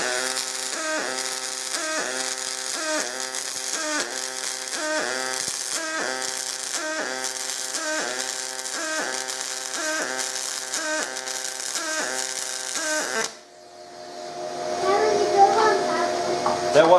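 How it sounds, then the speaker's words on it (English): Pulse MIG welding on aluminum gives a steady, rapidly pulsing buzz with a regular rhythmic pattern, close and fairly loud, for about thirteen seconds. Then it stops and quieter room noise follows. "So apparently, I finally did a good weld here."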